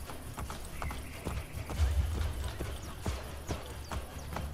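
Rhythmic hoofbeats clatter quickly and steadily, like a horse galloping, over a low rumbling background, in the video game Assassin's Creed Brotherhood.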